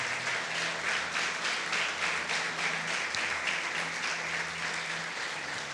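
A church congregation breaks into sustained applause, many hands clapping together in a dense, even wash that holds steady for several seconds.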